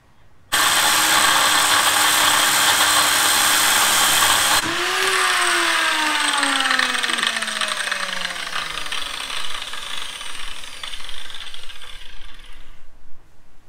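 A power tool cuts off metal hangings in a grain store, starting with a loud continuous whine that shifts into a falling, grinding tone as the blade bites and slows, close and dominant with no talk.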